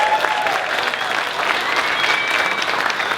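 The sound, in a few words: audience applause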